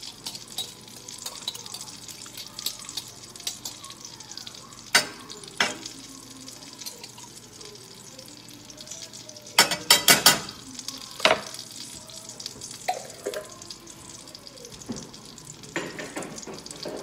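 Garlic fries and sizzles in a pan for a crab and shrimp spinach dip, a soft steady crackle broken by several sharp clanks and scrapes of stirring, with no talking.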